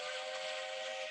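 A big steam train, around eight feet tall, sounds its whistle in one steady, sustained hissing tone, fairly faint and unbroken for about a second.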